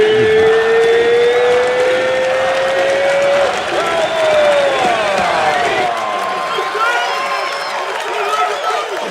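A bar crowd in a Rocky Balboa film scene cheers and applauds loudly and continuously, with a rising whistle-like tone early on and voices mixed into the din.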